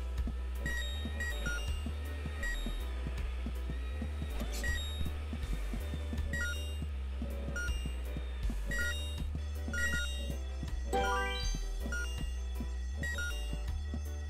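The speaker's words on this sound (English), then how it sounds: "The ear-splitting sound was the fire alarm." A piercing fire alarm goes off in the video game Horace, ringing in a steady, repetitive pattern over a pulsing low background that continues throughout.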